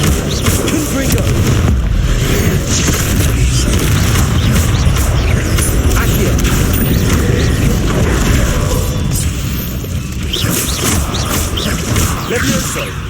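Fiery blasting spell in Hogwarts Legacy during a duel, loud booming crashes and mechanical clattering over dense combat noise, with a voice speaking over it.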